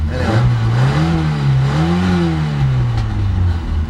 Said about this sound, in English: It makes this popping sound.